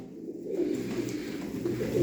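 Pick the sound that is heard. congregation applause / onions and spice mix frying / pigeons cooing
pigeons cooing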